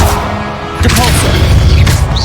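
A Depulso spell strikes in the Hogwarts Legacy video game, bursting into a loud booming impact about a second in that rumbles on under a dense wash of battle noise and effects.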